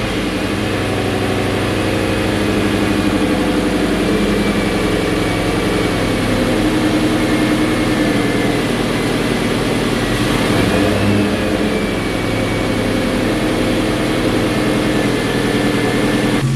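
A 1996-2004 SN95 Ford Mustang GT, freshly fitted with a replacement alternator, idles steadily and close for the whole stretch, a continuous low engine rumble with a faint whine and a slight rise in revs partway through.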